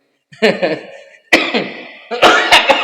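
Several harsh coughs close to the microphone, in three bursts with short pauses between, the last a quick run of hacking coughs.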